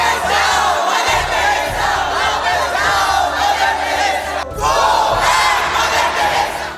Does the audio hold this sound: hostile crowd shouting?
yes